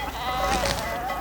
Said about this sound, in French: l'herbe délicieuse pour les brebis de Laurent